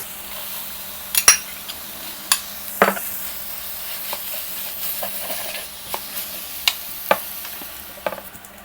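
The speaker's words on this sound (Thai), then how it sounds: "นำหมูกับกุ้งลงไปผัดรวมกันเลยนะคะ" Minced pork and shrimp stir-fried with onion in a pan, a clattering run of utensil scrapes and stirring knocks over a low, steady sizzle, with sharper metallic clinks scattered throughout and no talking.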